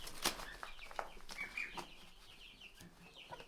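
A Rhode Island hen and a rooster mating in a coop with black leghorns: wings flap in quick bursts and close clucks and squawks break in at intervals.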